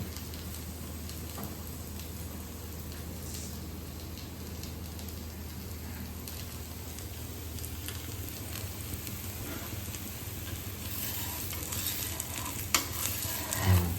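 Rice flour pudla sizzles steadily in a pan over a high gas flame, a dense continuous frying hiss with light scraping near the end.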